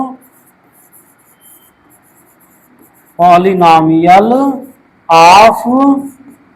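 A pen writes a handwritten math solution, making faint, close scratching strokes, followed by a person talking loudly over it.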